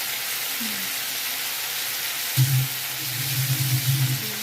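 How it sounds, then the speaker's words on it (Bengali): Prawns lightly frying in a pan, a steady close hiss of sizzling oil throughout, with a voice murmuring in the second half. "চিংড়ি মাছটা হালকা ভাজতে হবে"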